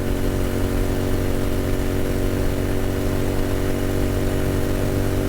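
Royal Enfield Continental GT motorcycle engine held at full throttle climbing an incline at highway speed, a loud, steady, unbroken drone with no break throughout.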